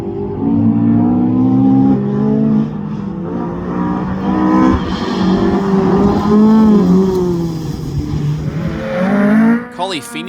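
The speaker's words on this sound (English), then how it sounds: "The MX-5 gets away from Gary Duncan here as he aquaplanes through this small lake on stage 3" A Mazda MX-5 rally car on a gravel stage engine whining loudly through rising and falling revs as it aquaplanes through a small lake, with a splash and rattle near the end.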